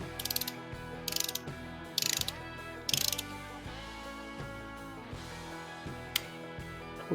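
Ratcheting torque wrench tightening valvetrain bolts on a GM LS engine to 22 foot-pounds, with several bursts of rapid close clicking separated by short pauses, heard alone with no talk.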